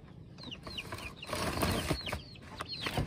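Chicks chirp inside their enclosure in a run of thin, high peeping calls, some falling in pitch, repeated close by over a soft background rustle with no talk.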